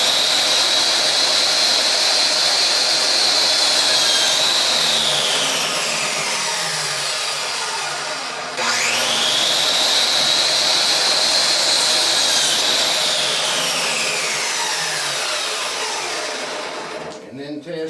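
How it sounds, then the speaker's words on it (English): Two passes of a power saw cutting a 45-degree miter in wood, each a loud high whine that spins down, then a brief pause before a second whine, ending with a few clattering knocks. "Hop on your miter saw, or use your circular saw or table saw to cut that miter."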